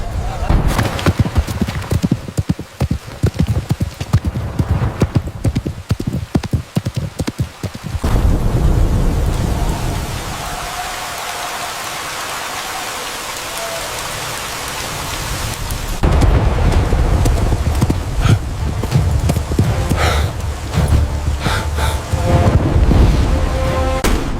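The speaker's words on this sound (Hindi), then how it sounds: "दुर्गा के जाने के बाद उसी रात चंबल में एक तूफानी बारिश हुई" A stormy night downpour in the Chambal region: heavy rain hisses steadily, and loud rumbles of thunder roll through the middle of the stretch before the rain surges back.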